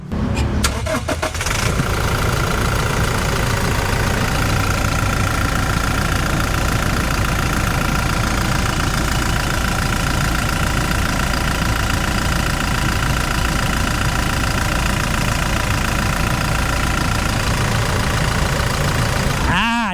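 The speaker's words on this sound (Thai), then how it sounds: "เดี๋ยวไปฟังเสียงเครื่องกันเลย" A used 2015 Toyota Fortuner 2.4 SUV engine starts with a brief crank, then settles into a steady, loud idle that runs on without pause.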